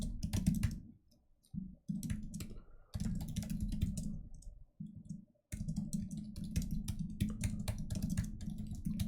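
A computer keyboard clatters in quick, close bursts of typing with short pauses between them, fairly quiet and with no talk.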